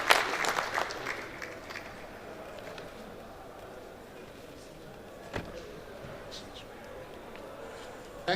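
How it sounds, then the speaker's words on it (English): An audience at a builders' conference AGM opening ceremony claps briefly, strongest at the start and then thinning into scattered claps and room noise. "Let's give him a round of applause as he comes."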